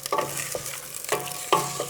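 Zucchini frying in a pan over fairly high heat, with a soft steady sizzle broken by a few sharp stirring scrapes, close and fairly quiet, no talking.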